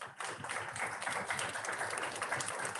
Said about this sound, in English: And a round of applause once again for Capital Club.